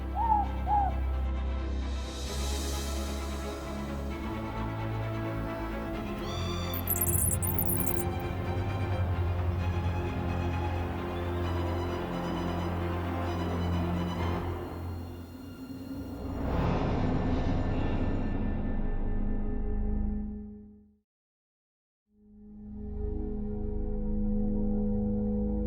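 Morepork owl calling at night in a New Zealand native forest, soft hoots among a long, layered stretch of ambient forest sound with a brief drop to near silence near the end.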